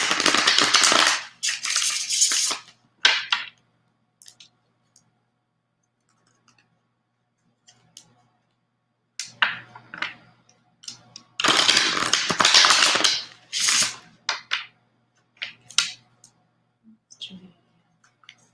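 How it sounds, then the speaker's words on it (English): Tarot cards being shuffled by hand, heard as two dense bursts of rapid riffling clicks with scattered softer card taps between them and near-silent gaps, close and fairly loud. "I really like shuffling my cards there. It's a very satisfying process."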